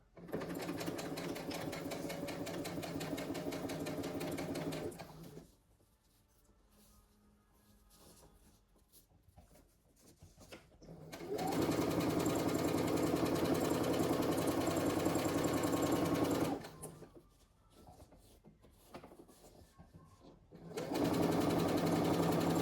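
A sewing machine stitches a fabric seam on a boxy makeup pouch with French seams, running in three loud, steady bursts of several seconds each, separated by quieter pauses.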